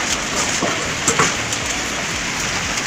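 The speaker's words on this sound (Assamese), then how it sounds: "আৰু আজি পুৰা বৰষুণ দি আছে আমাৰ তিনিচুকীয়াত" Heavy rain pours down in Tinsukia, making a steady, dense hiss that fills the whole stretch, with a couple of slightly louder taps or splashes near the middle and no talking.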